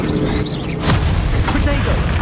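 A Bombarda blast from a spell in Hogwarts Legacy on PS5 hits with a loud, broadband boom just under a second in. Game ambience and whistling, swooping effects surround it before and after the explosion.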